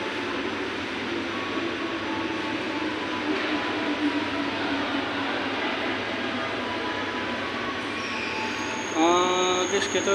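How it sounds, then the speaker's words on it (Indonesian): Steady rumble and rattle inside a moving passenger train, with wheels clattering continuously and a brief metallic squeal near the end. "Nah, ini suasana di dalam kereta ya"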